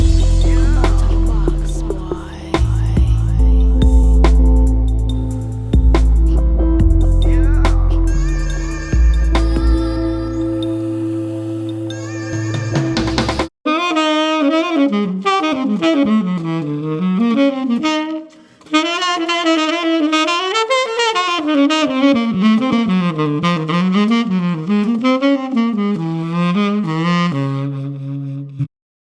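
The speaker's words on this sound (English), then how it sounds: "Now, me playing the sax physically did just happen." Solo saxophone plays a flowing, bending melodic line, loud and close, following a denser passage of layered instrumental music with deep bass.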